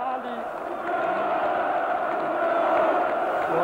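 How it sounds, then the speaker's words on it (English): A distant crowd at Nicolae Ceaușescu's outdoor rally in a city square, with shrill screams and shouting rising from far back in the mass of people, a steady muffled roar building slightly over several seconds. "screams can be heard from somewhere back in the crowd"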